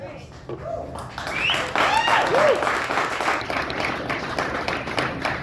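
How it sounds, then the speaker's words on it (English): A crowd at a political rally in Iowa claps and cheers in a sustained burst, with a few whoops rising over the applause and a voice speaking beneath it. "Well, you're clapping"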